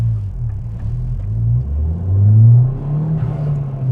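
A Mark 7 Ford Fiesta ST hot hatch fitted with a sound symposer revs close by, its deep engine rumble swelling and easing in uneven pulses over several seconds with no voices.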